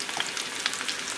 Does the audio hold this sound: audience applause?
no